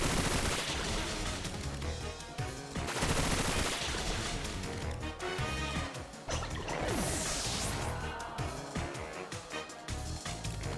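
Bullet Seed attack from a Pokémon video game: a dense barrage of rapid, loud popping hits in quick bursts, layered over busy game music, with no voices.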